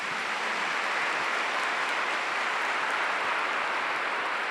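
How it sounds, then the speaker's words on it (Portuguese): A church congregation claps for the Gospel reading at Mass, a dense, steady wash of many hands that holds at full strength through the whole stretch, with no voices rising above it. "Vamos aplaudir a palavra de Deus."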